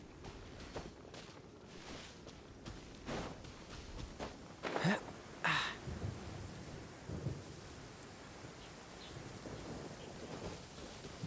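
Rain falling with rolls of thunder in the video game Genshin Impact, a steady patter under several loud thunder rumbles, with a voice grunting at times during combat.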